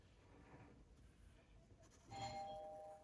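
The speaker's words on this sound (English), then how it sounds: "Oh, that's the doorbell." A doorbell chime rings out in a home partway through, a sustained two-note tone rising over low room noise after a quiet stretch.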